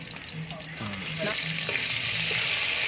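Chopped onion drops into hot oil and erupts into a steady, close sizzle that swells and holds for a few seconds, with a faint voice murmuring in the background.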